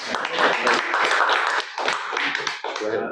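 An audience at a software talk on the Lazygit tool breaks into clapping at the end, a dense burst of many hands that holds steady for a few seconds and then begins to thin.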